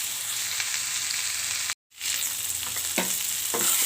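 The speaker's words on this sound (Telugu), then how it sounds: "ఒక్కసారి మళ్ళీ ఒక మూత పెట్టి లైట్గా ఫ్రై చేద్దాం." Cashews, ginger and garlic fry in a pan with a steady, loud sizzle, broken by a brief silent gap midway before the crackling resumes with a few stirring clinks; no talk.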